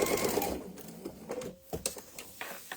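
A sewing machine stitches a backpack in short quick bursts, close and fairly quiet, stopping briefly between runs.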